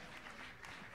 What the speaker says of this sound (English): Now let's say give yourself a round of applause out there.